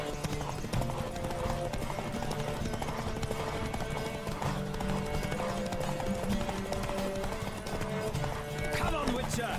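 Hooves clatter in a fast galloping rhythm with an occasional whinny in the video game The Witcher 3, while voices talk over the ride.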